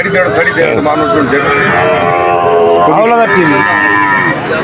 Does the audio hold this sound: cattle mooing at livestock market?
yes